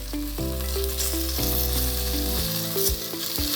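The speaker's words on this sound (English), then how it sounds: "we have this on a high heat and searing all sides until it's golden brown" Chicken pieces searing on high heat in a hot pan for chicken cacciatore give off a steady, dense sizzle that runs without pause, with a tonal musical backing underneath.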